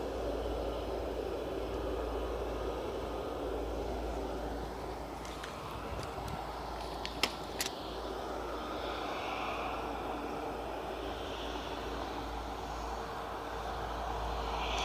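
Airliners at Cleveland Hopkins airport, including a Frontier A321 and a 777, produce a faint, steady distant jet roar, with a few brief clicks midway.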